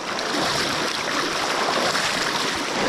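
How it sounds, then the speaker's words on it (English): River water rushes steadily at a crossing point, a close, dense, continuous wash of flowing water with no voices. "I've just got to make it across this part of the river."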